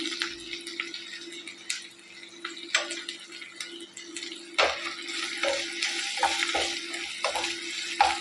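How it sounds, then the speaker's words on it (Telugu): Green chilies frying with softened tomatoes in a pan for chicken macaroni, a steady close sizzle with intermittent stirring clicks and scrapes building louder toward the end. "ఇప్పుడు పచ్చిమిరపకాయ వేస్తున్నాను."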